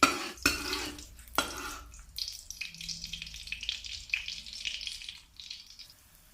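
Chopped garlic frying in oil in a pot over medium heat for instant-noodle suki stir-fry, an initial clatter and thuds giving way to a soft, steady sizzle, close and fairly quiet, with no talking.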